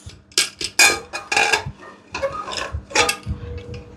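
A pressure cooker being opened in a home kitchen, with a run of clinking metallic clicks and clatters of lid and pot, moderately loud and close, with no talk.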